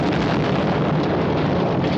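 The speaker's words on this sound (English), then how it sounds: "an explosion ripped apart the entire building" A sustained, heavy roaring rumble, dense and loud throughout, like the blast and aftermath of an explosion ripping apart a bank building, with no voices.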